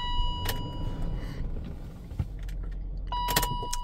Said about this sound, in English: I'm just going to show you that this vehicle will start from this key